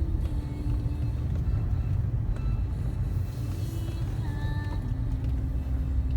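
Interior of a Mercedes-Benz E260 W211 on thin-profile tyres and aftermarket wheels rolling over a rough road, a loud continuous low rumble of road and suspension noise with faint engine tones and occasional knocks.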